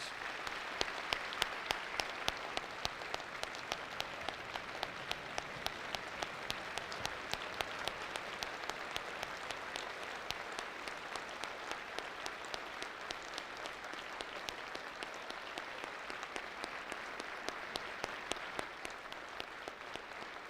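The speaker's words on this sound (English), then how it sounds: "Let's give them one more big round of applause." Sustained applause for veterans fills a high school Veterans Day assembly, a steady dense clapping from a large crowd that holds evenly for about twenty seconds.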